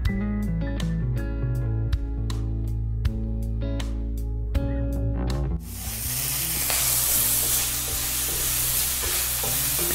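Onion and carrot fry in a pan for a lasagne bolognese. Plucked musical notes come first, then a loud, dense sizzle takes over for the second half and runs on steadily.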